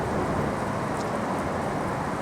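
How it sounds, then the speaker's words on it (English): Underground River Fleet water flowing beneath a street drain outside a London pub, heard as a steady, dense broadband rush with no pauses, fairly close and constant throughout. "That is the sound of the fleet flowing towards Blackfriars."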